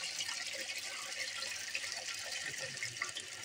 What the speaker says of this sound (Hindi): ये मोटर का पाइप आ रहा है। आप दे सकते हो ये बिल्कुल ठीक तरह पानी दे रही है